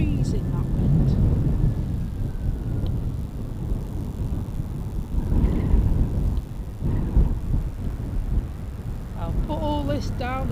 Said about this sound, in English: Oh, blimey, that wind.